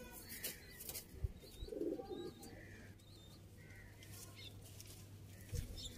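Sialkoti pigeons coo close by in a short, low burst, with faint chirps and a steady low hum behind them.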